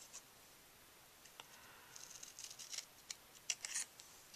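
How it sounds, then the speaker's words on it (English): Snips cutting the ends of paper ribbon while making a stamped birthday card, heard as a few faint, scattered crisp snips and small rustles, close by but quiet, with no talking. "we are going to take our snips and just flag the ends here"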